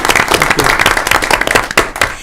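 Audience applause at a school district board meeting, honoring a staff team on the district's fifth consecutive award: dense, steady clapping from many hands in a room, sustained throughout with no talking.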